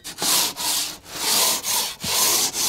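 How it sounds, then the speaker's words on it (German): A plaster float is rubbed back and forth over partly cured render on a facade under repair, giving a loud, close, rasping scrape in repeated strokes with short pauses between them. "Bevor es ganz ausgehärtet ist, gehst du nochmal mit dem Rabott über die Fläche."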